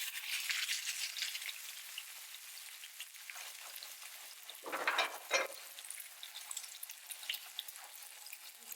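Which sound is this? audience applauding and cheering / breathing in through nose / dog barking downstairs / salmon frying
salmon frying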